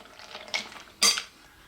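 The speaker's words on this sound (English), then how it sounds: "Give that a quick stir together." A utensil stirs melted dark chocolate chips and cream in a pot, giving two or three close clinks and scrapes of metal against the pot, loudest near the end, with no voices.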